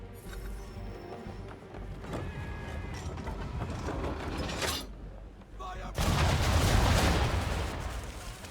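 Ship cannons firing in Assassin's Creed III during a naval battle, heavy broadband blasts building to a loud sustained barrage near the end, with mechanical clanking and creaking of the guns throughout.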